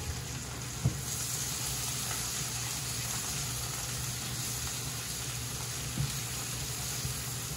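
Mushrooms sizzle and fry in a pan with a continuous even crackle, close by, and a couple of soft utensil taps.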